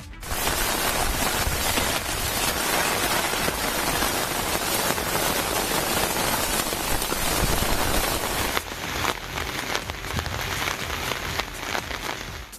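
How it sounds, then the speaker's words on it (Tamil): Heavy rain pours steadily over Mayiladuthurai and Sirkazhi, a dense, loud, continuous hiss of drops hitting surfaces that eases a little near the end. "அதன்படி மயிலாடுதுறை, சீர்காழி உள்ளிட்ட பகுதிகளில் பகலிலும் இரவிலும் விட்டு கனமழை பெய்தது."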